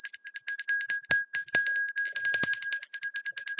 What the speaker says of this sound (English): this is appropriate time for me to ring the bell